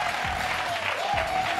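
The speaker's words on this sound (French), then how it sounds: "Notre public sur ce plateau est aussi présent. On peut s'applaudir." A French game show studio audience claps together, a short burst of steady applause from a crowd in the studio, heard for under two seconds.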